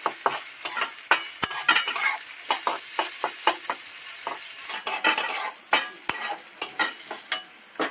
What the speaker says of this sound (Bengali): মুগ ডালটা এর মধ্যে ছেড়ে দিচ্ছি ভালো করে ভাজতে থাকবো